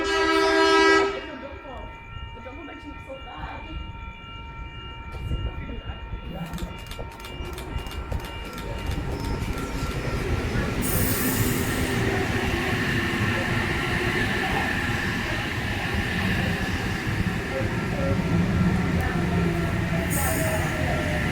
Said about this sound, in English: shortly arriving alongside platform number 2 will be a Wollongong bound service stopping all